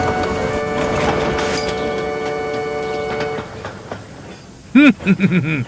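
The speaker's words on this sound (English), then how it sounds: "a booming whistle in the distance. It grew longer and louder, and soon Murdoch shrieked through with a heavy goods train." A heavy goods train rumbles past with a long, steady whistle tone held for several seconds over the rolling clatter of wagons, then fades as a voice begins speaking over it.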